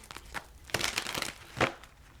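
Soft, dry tarot card shuffling close by, with papery riffles and crinkly bursts in a couple of short clusters and no talking.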